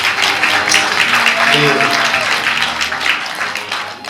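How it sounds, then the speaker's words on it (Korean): Audience applause at a Gwangju social innovation platform results-sharing event, a broad steady patter of clapping filling the hall while a voice speaks briefly over it. "박수 부탁드립니다."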